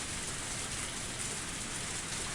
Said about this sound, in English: The rain was still pouring,